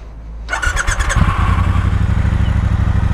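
A Triumph Speedmaster's 1200cc high-torque engine cranks with a quick stutter of the starter, then fires and settles into a loud, deep, steady close-up rumble at idle, with no voices.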